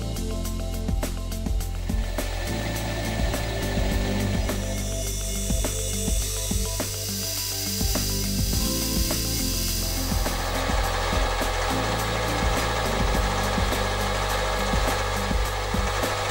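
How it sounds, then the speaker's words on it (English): A lathe makes cleanup cuts on a metal workpiece held on a temporary arbor, a steady whirring machine hum with repeated light scraping and ticking cutting noises, close and continuous, with no talk. "The central hole now becomes the register to relocate the part back on the lathe for some cleanup cuts"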